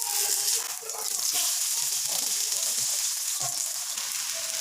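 A besan-coated roti fries in oil in a pan with a steady, close sizzle and bright hiss that continues throughout.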